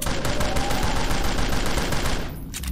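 Rapid, sustained automatic gunfire from a Siren Head horror video game, dense loud bursts running almost continuously and easing off briefly near the end.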